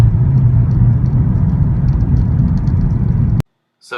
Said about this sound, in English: here's a video driving and dropping idle when I put the clutch in